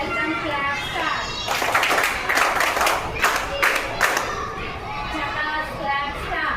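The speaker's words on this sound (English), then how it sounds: "Clap start" Scout and guide schoolchildren in grades six to eight clap together in a burst of a few seconds on command, with voices around them and the sound fading back to chatter.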